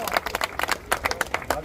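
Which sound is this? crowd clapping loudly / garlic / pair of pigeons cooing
crowd clapping loudly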